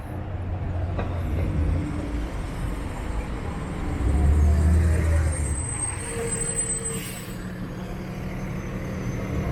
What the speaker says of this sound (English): There's a fire truck